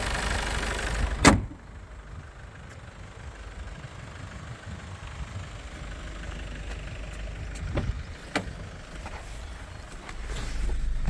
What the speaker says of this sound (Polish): Także silnik chodzi równo, ładnie.